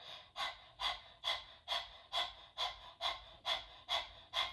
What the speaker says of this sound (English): we're going to start with practicing like panting like a dog